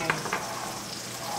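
Bacon fries in a pan in a short burst of steady sizzling hiss with a couple of brief pops near the start, fairly quiet and close, no voices.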